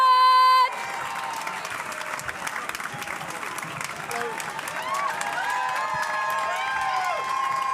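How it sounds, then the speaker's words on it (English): A studio audience breaks into loud, sustained clapping and cheering that fills the room with a continuous wash of applause and whoops for a comedy show guest coming on stage. "please start clapping and cheering"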